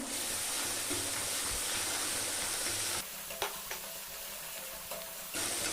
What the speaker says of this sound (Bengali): পেঁয়াজটাকে আমি হালকা একটু ভেজে নেব